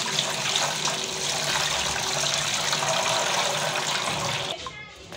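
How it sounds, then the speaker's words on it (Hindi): Onions are washed in water in a home kitchen, a steady gushing, splashing flow as from a running tap, lasting several seconds before cutting off near the end. "प्याज़ों को मैं अच्छी तरह से धो लूँगी।"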